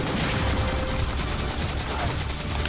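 Gunfire in Halo Spartan Ops, a rapid stream of shots blending into dense, loud bursts with battle noise throughout and faint voices beneath.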